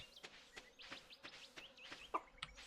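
Chickens in the Stardew Valley video game cluck in a steady run of short, bright calls, several in quick succession, fairly soft and clear with no talking over them.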